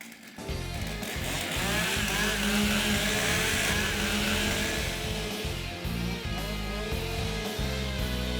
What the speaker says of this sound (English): Warm up your saw.